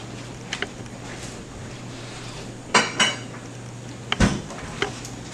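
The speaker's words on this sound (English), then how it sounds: "I'm going to combine my small diced watermelon into my blender." Diced watermelon tipped into a blender jar, with a few sharp clinks and knocks against glass or plastic over a steady low background hum, no talking.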